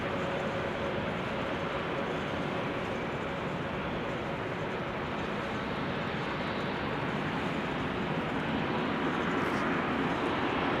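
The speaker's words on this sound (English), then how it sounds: "Next up is Qatar Cargo going to Doha. Flight 8206. 777 freighter." A four-year-old Qatar Cargo Boeing 777 freighter bound for Doha gives a continuous, even engine rumble at a busy airport in showery weather, dense and steady with no voices over it.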